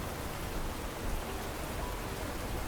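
Rain pours steadily in the video game After the Wane, a close, continuous patter and hiss with slight swells and no voices.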